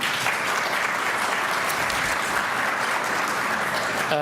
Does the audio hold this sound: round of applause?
yes